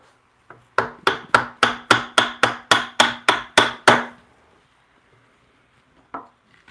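A sharp chisel cuts into wood during bunk bed rail work, struck about eleven times in a quick, even rhythm of crisp, close knocks, then a pause and one last lone strike.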